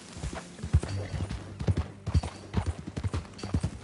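Horse hooves clip-clopping at a steady walking pace in the video game Red Dead Redemption 2, close by, with a faint low background hum and no voices.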